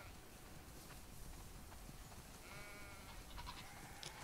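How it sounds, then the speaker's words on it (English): A flock of sheep bleats in The Last of Us Part 2, faint calls rising over a steady background hum, a few overlapping bleats clustered in the second half. "That's a lot of sheep."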